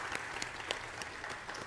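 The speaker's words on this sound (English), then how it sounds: "I want to just give them one round of applause for all of your hard work and" Brief, faint round of applause from a conference audience for students, steady scattered clapping with a few sharper individual claps standing out, heard alone without talk.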